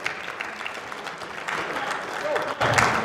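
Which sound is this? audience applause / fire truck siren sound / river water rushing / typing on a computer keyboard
audience applause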